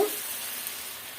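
A steady, close sizzle of dried loitta fish frying in a hot pan, bright and hissing, with no talking.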